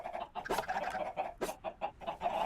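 Chickens in the Minecraft video game cluck in short repeated bursts, a busy irregular run of soft clucks and squawks, fairly faint and with no talking.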